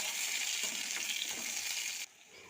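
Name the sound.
onion frying lightly in mustard oil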